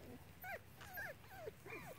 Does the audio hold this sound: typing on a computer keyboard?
no